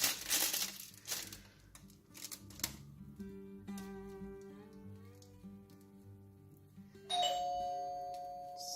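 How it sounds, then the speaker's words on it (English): A two-tone doorbell chime rings out near the end, a bright sustained ding following a stretch of clattering and crinkling handling noises. "Sorry about that. That was the doorbell."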